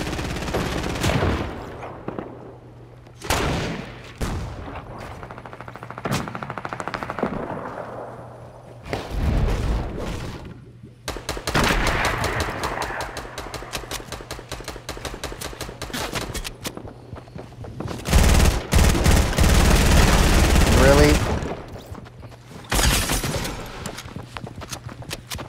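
Rapid submachine gun bursts crackle in a video game, several sharp volleys separated by gaps, with a long sustained stretch of fire near the end and faint clattering steps between.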